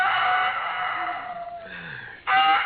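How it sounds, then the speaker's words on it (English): A rooster crows in long, drawn-out calls on a farm, with one call fading and a second loud crow starting near the end, in a thin, narrow-band old recording. "I could have slept if it hadn't been for that darn rooster"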